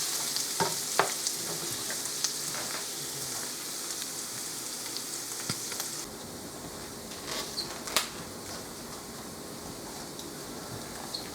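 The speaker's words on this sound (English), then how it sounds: "here I have the onions frying with some garlic and the achiote oil" Onions and garlic frying in achiote oil in a pan, a soft, steady close sizzle with scattered crackles and small pops throughout, no talking.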